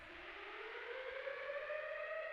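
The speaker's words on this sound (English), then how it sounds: "So we got a siren" A civil-defence-style siren used as a sound effect in a music track, rising in a slow, smooth upward sweep and holding a wailing tone, fairly quiet and alone.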